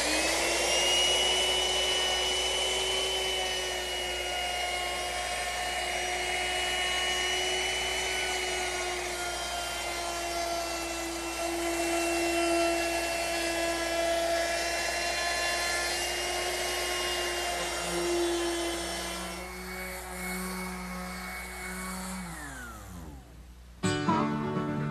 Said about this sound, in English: There's no better time than now to round over the edges of the side pieces.